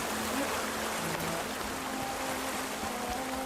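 Steady rushing water from a waterfall in the video game Horizon Forbidden West, a continuous broadband wash heard alone at a constant level.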